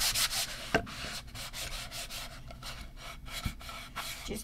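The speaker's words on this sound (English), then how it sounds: "I'm going to give this a quick sand" A sanding block rubs across painted wood in quick back-and-forth strokes, a close, rhythmic gritty scratching with a few sharper knocks and no talk.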